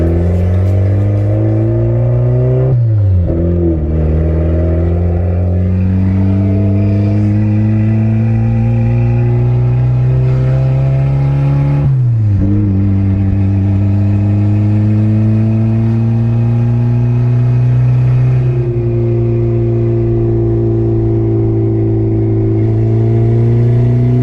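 A boosted, turbocharged Acura Integra engine pulls hard at full throttle, droning loudly and rising in pitch through each gear. Brief dips mark the shifts before the engine climbs again, heard close from inside the car with no talk.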